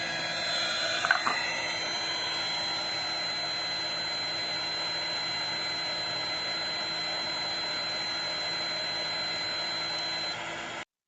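Hot air blower running steadily while heating the temperature sensor of a deep fryer, a loud continuous whooshing roar with a brief bump near the start, holding level until it cuts off at the end.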